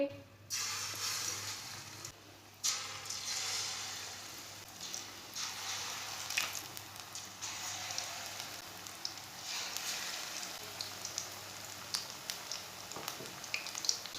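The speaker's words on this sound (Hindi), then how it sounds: "अब शिमला मिर्च को फ्राई कर लेंगे।" Capsicum pakoras coated in gram flour batter frying in hot oil, a soft continuous sizzle and crackle with small pops, fairly faint, with brief clatters of handling.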